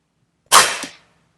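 An AirForce Texan air rifle fires a heavy 120 grain Neelson pellet: one loud, sharp crack that rings out and fades within half a second.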